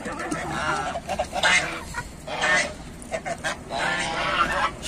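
A flock of geese honks in repeated loud bursts close by, the calls overlapping in noisy clusters with short gaps between them.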